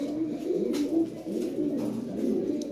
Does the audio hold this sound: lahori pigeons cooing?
yes